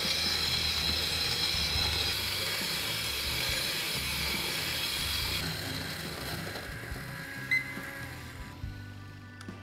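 A Cocinaré Essence 2-in-1 electric grinder grinds an 18-gram dose of coffee beans, giving a steady, close, rattling whir that runs unbroken and stops abruptly at the very end.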